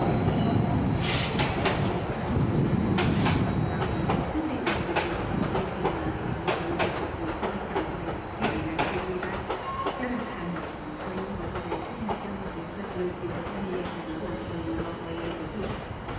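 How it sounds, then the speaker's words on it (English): Stadler Flirt electric train passing through Budapest Keleti station, wheels clattering over rail joints with repeated sharp clicks and a rumbling roll, close and steady, fading slightly as it goes by. "There goes another Stadler Flirt. This one in the red livery."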